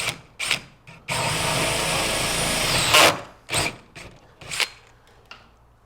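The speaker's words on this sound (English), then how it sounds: "I'm going to lay my drill bit just underneath the staple" A power drill whines steadily for about two seconds, flanked by short bursts of drilling and scraping as the bit removes a staple from drywall.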